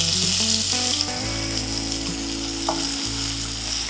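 Chopped green chillies and curry leaves fry in hot oil for a little millet khichdi, producing a loud, continuous bright sizzle over a steady low humming tone in the background.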